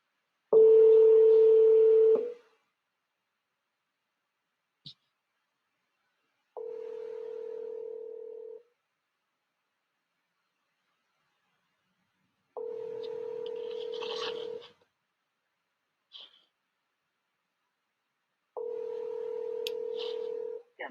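A telephone call is placed and the line rings through on the earpiece, giving four evenly spaced two-second ringback tones separated by silence, with a couple of faint clicks between them.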